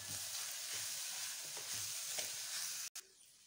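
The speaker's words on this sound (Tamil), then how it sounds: "இப்போ நம்ம அந்த பொடியையும் சேர்த்து ரைஸையும் சேர்த்து நல்லா ஈவனாக மிக்ஸ் பண்ணி விட்டாச்சுங்க" Cooked rice being stirred with spice powder in a hot frying pan for egg fried rice, a continuous sizzle with rhythmic scraping strokes before a sudden cutoff near the end.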